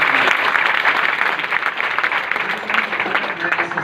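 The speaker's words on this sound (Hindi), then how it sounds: "जबरदस्त ताली" An audience claps loudly and continuously at a Modi Care success event, producing a dense, steady round of applause for the whole stretch.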